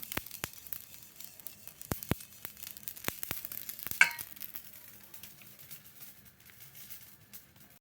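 Soft crackling and popping of sesame and poppy seeds dry-roasting lightly in a pan, scattered sharp ticks over a faint sizzle; quiet, no voices.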